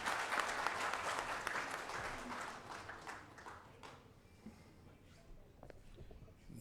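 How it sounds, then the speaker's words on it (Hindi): Audience applause welcoming the chief guest at a public event in India, loud and sustained at first and then thinning gradually into scattered claps. "उनका स्वागत एक बार जोरदार तालियों से फिर होना चाहिए"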